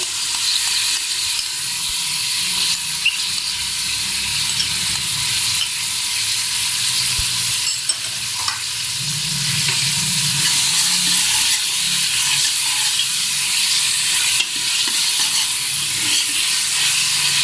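Loud, constant sizzling and hissing of ginger garlic paste frying with softened onions in a hot pan, with occasional stirring sounds; steady throughout, no talking.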